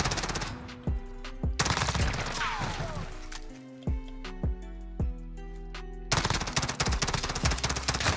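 Bursts of automatic M4A1 rifle fire from the Modern Warfare shooter game, loud and close, in several rapid strings separated by short pauses, with a longer sustained burst at the end.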